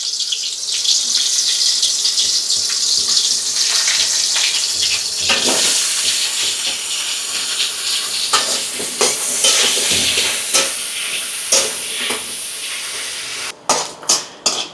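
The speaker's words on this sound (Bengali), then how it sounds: "আমি এখন উস্তেগুলো একটু লাল করে ভেজে নেব।" Bitter gourd pieces fry in hot oil with a continuous close sizzle and hiss, broken by stirring scrapes and a few sharp clatters near the end.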